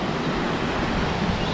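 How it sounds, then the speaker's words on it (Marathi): A large waterfall near Igatpuri on a monsoon trek in Nashik, heard as a steady, dense roar of rushing water filling the whole clip without pause, loud and close, with no voices. "इतका मोठा धबधबा बघा"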